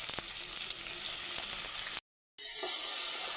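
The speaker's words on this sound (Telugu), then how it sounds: "ఆనియన్స్ని అయితే చక్కగా ఫ్రై చేసుకోవాలి" Onions fry in hot oil in a pan, giving a steady close sizzle that cuts out for a moment and then resumes.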